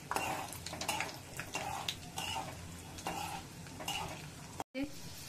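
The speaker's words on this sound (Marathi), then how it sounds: "शेंगदाणे थोडे तळून द्यायचे" Peanuts fry in a pan of oil with a soft, steady sizzle, overlaid by scraping and clinking from a spoon stirring against the pan; quiet and close, with a brief dropout near the end.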